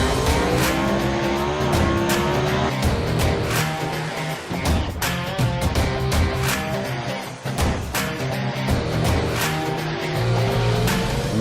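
A drag race car launching on a flat drag at the Yellow Bullet Nationals, with a loud, sustained engine roar, rising revs and sharp crackling bursts.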